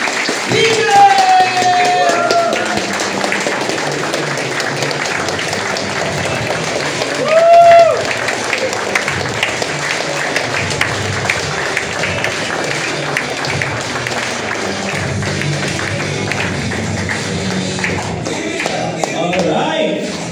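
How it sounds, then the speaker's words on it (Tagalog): Audience at a network marketing event applauding a mentor: steady clapping and crowd noise throughout, with brief cheers and whoops rising above it at moments. "bigyan natin ng masigabong palakpakan kay Mentor Ryan Tigre!"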